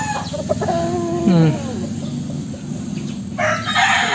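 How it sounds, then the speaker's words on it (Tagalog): Several White Hatch gamefowl roosters crow in an outdoor pen, long drawn-out calls rising over clucking and a busy background of other birds, loud and fairly close. "So ito pa mga paragmanok, White Hatch."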